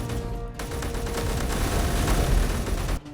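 Sustained video-game gunfire in Nano Goo, a continuous stream of rapid shots forming a dense crackling barrage at steady loudness, ending abruptly near the close.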